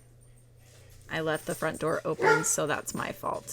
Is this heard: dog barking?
yes